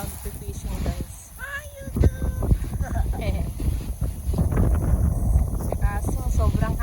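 Strong autumn wind buffets the microphone in heavy low rumbling gusts while people talk over it, at a fishing spot in Lockport, Manitoba, Canada.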